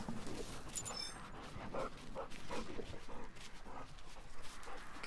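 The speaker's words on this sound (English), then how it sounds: "Because if he's baying," Roscoe, a scent hound in the hunting game theHunter, bays and whimpers in short, repeated, moderately distant calls over a quiet outdoor background, with no one talking.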